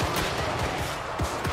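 Missile units in the video game Warhammer 3 fire volleys from high ground, giving a dense, loud battle din with repeated sharp ranged shots and impacts over a continuous roar.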